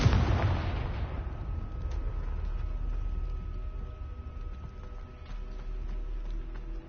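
A Confringo fire blast spell explodes in Hogwarts Legacy, a loud burst at the start that decays into a rumbling tail with scattered crackles and faint later impacts.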